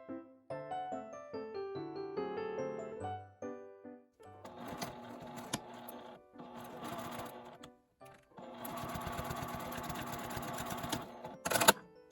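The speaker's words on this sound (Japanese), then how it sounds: "表は見えるので線を引いて縫います。" A sewing machine stitches a small quilted pouch made from fabric scraps. Close, rapid mechanical whirring comes in several bursts separated by short pauses, with a soft musical tone at the start.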